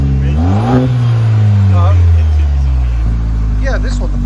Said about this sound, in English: There's a muffler delete there. That sounds so good.